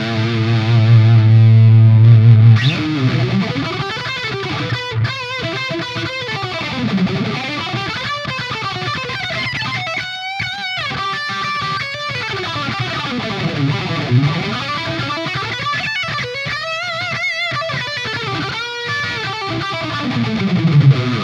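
An electric guitar plays through the orange OD1 overdrive channel of a Marshall JVM410H amp, with loud crunchy distorted chords and sliding riffs running continuously for about twenty seconds.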